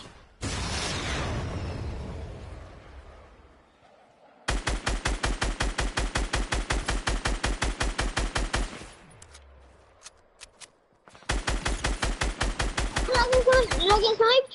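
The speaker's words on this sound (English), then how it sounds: "I'm getting shot right beside me." Rapid automatic gunfire in a Fortnite match comes in two long sustained bursts, loud and close, after an initial blast and a quiet gap, with a third burst at the end joined by bright pinging effects.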